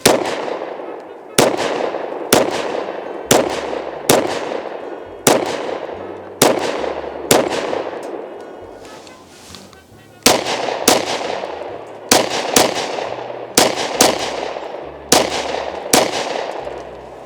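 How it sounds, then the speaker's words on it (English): SIG P239 pistol fired single-handed in rapid fire, a loud series of about fifteen sharp gunshots at a quick, slightly uneven pace with a short pause midway, each crack ringing out briefly. "All right, single-handed rapid fire."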